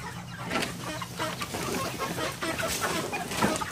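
Cornish cross chickens about eight weeks old cluck and murmur inside a coop, a steady close chorus of overlapping calls.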